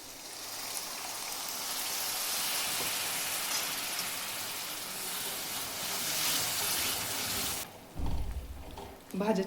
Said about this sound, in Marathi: चिंचेचं आणि गुळाचं पाणी टाकायचे